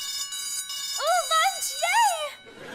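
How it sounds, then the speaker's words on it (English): School bell in a TV show scene, heard as a short electronic warbling chime of rising and falling tones lasting about a second and a half, with voices talking around it. "I've never heard a bell like that."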